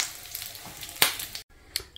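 Bacon fries in a Gotham Steel copper pan, crackling and popping in irregular sharp bursts over a steady soft sizzle, close by.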